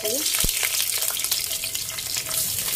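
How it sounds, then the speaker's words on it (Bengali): Chopped onion and capsicum hitting hot oil in a pan, a loud, dense sizzle running steadily from start to finish with a sharp clatter near the beginning. "পেঁয়াজ কুচি দিয়ে দিচ্ছি ক্যাপসিকাম দিয়ে দিচ্ছি"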